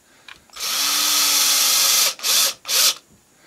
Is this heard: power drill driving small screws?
yes